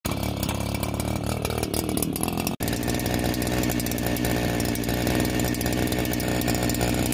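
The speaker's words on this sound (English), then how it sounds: "So let's get to drilling." A rock drill with freshly sharpened bits bores into massive chalcopyrite at a copper prospect, a loud, steady, close mechanical roar that cuts out briefly and then runs on without talking.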